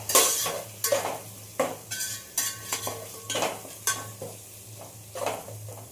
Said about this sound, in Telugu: మీరు ఎంత తింటే అంత కారం కొద్దిగా కలపాలి